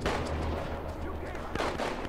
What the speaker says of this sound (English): somebody's shooting over there